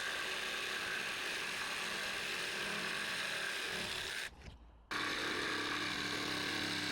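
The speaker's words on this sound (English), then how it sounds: "So again, I'm just going in with a jigsaw." A jigsaw cuts through a wooden offcut for a toy plane, giving a steady close rasping buzz that stops briefly for about half a second before resuming just as loud.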